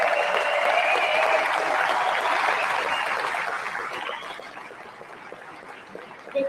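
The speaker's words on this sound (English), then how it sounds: "I would also like to say a huge round of applause for our volunteers." Indoor audience at a Calgary Alberta independence rally clapping for volunteers, a dense, loud round of applause that slowly thins and fades toward the end.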